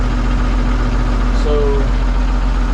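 A Case 1070 tractor engine idles just after a cold start, giving a steady, close, low mechanical rumble with an even pulsing rhythm that holds throughout.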